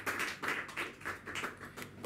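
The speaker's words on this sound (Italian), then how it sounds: "Un applauso anche per lui" Audience applauding for author Antonio Biggio at an Iron Maiden–themed talk, a soft, fairly distant patter of clapping hands with uneven bursts, quiet and brief.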